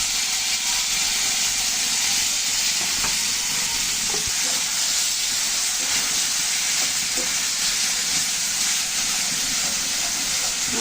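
Onion and garlic dropped into hot oil with turmeric, a loud, dense, steady sizzle and hiss lasting throughout, with faint scraping from stirring underneath and no voices.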